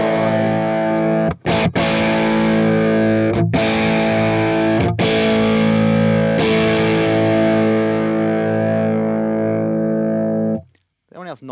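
Distorted electric guitar runs through a Neural DSP Nano Cortex using a Marshall amp capture and an SM57 cabinet impulse response, sounding thick and loud with sustained chords and a few brief gaps before it cuts off abruptly.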